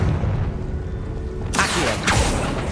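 A Confringo fire spell from Hogwarts Legacy bursts as a loud broadband blast, followed moments later by a second whooshing impact over a low rumbling game backdrop.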